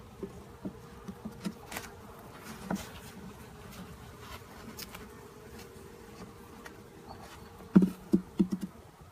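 Bees crowd a beehive frame that held a pollen patty, giving a steady low buzzing hum close by with soft scattered knocks and a few louder taps near the end.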